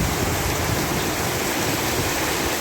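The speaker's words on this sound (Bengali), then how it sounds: "এই গরমের মধ্যে এক পশলা বৃষ্টি শান্তি নিয়ে আসে।" A rain shower pours down steadily, a dense, loud, even hiss of rainfall with no breaks and no voices.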